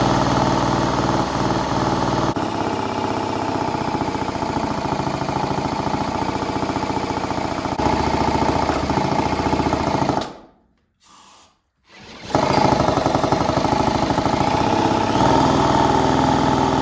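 A small engine from a Yamaha YZ80 dirt bike runs at a steady, buzzing idle, cuts out for a moment, then roars back to life and keeps running.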